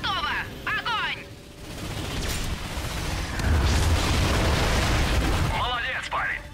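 An ion cannon fires in the Ratchet & Clank video game with a loud, rumbling blast and crackling explosions building over several seconds, framed by brief bursts of robotic-sounding game chatter.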